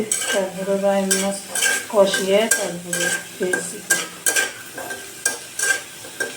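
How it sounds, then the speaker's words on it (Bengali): Potatoes frying in a pan for a spiced fish dish with onions, a bright sizzle broken by repeated metal spatula scrapes and clatters in a quick irregular rhythm, close up, with a voice speaking over it early on. "আলু আলু ভেজে নেওয়া হচ্ছে আগে"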